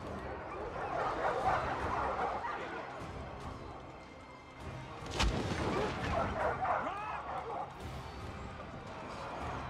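War dogs barking and yelping in a Total War: Arena battle with Vercingetorix's wolf units, barks mixed with shouted commands, combat noise and a thudding impact, fairly close under game voices.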